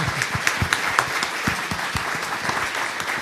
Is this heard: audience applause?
yes